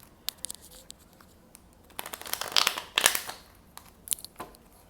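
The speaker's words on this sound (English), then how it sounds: "Do another shuffle." Tarot cards shuffled by hand in short bursts of crisp riffling and soft rustling, close up, with quiet pauses between shuffles and no voices.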